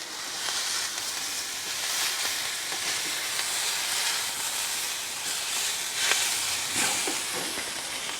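Pink chunks of meat sizzle in a pan on a wood stove inside a canvas tent while winter camping, giving a steady, close, loud frying hiss with faint scrapes as it is stirred.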